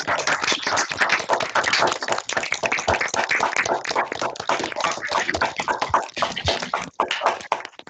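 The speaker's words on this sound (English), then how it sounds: "just maybe to unmute and give Liam a virtual round of applause" Online seminar participants unmute to give a virtual round of applause, a dense, choppy patter of claps through laptop microphones, compressed and uneven, continuing steadily across the whole stretch.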